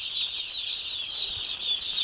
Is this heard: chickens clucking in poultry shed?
yes